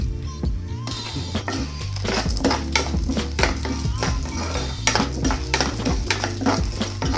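Dal and sambar onions roasting in a pan, with steady scraping and clinking of a metal spoon against the pan and a faint sizzle, close and busy throughout.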